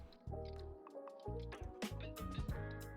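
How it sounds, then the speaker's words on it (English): A melon baller digs into a fresh apple, making close, wet squishing and scraping scoops in several short bursts, crisp and juicy. "I use a melon baller to make nice balls from apple."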